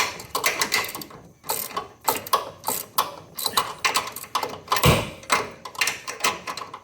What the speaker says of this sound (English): I got my wrench turned the correct way. So I'll be tightening instead of loosening